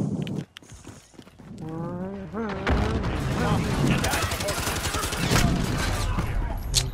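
Shotgun blasts and gunfire in a video game, loud bursts crowding a busy, dense mix of game effects while a voice talks over the action.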